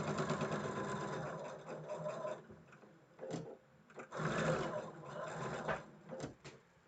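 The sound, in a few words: sewing machine sewing quilt blocks together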